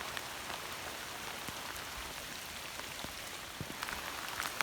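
Steady rain falls at a van campsite, a soft, even patter of drops on surfaces with occasional sharper drips, quiet and continuous with no talking.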